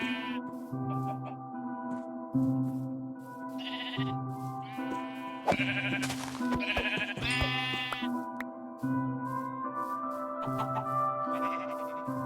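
Sheep in Minecraft bleat repeatedly, one after another in short, clear calls over a quiet background.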